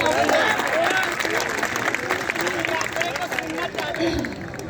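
Audience clapping at an evening comedy poetry gathering on Assi Ghat in Varanasi, a dense wash of applause from a crowd mixed with murmuring voices and babble, steady and close throughout.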